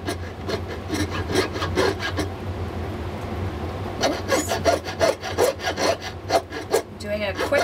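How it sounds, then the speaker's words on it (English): Hand saw cutting excess metal from a cast jewelry piece, rapid rhythmic rasping strokes up close, a burst of strokes, a pause, then another faster run. "So I just come in and saw this off."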